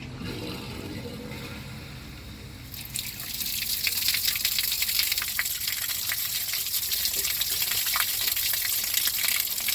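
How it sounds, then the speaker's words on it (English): Water from a 75 to 100 foot garden hose turned on at full blast surges in after a quieter start and then gushes steadily and loudly with spluttering bursts of air, with no talk. "I'm going to go turn the hose on."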